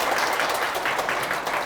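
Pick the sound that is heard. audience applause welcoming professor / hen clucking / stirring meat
audience applause welcoming professor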